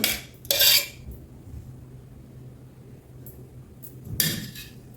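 A small tempering pan set onto a stove with two spoons of ghee: two short metallic clatters a few seconds apart, close by, with quiet room tone in between and no talking.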